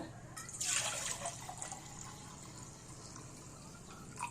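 Water pours briefly into a pot of rice being cooked as coconut rice, with a splashy rush that quickly fades, over a steady low hum in the background.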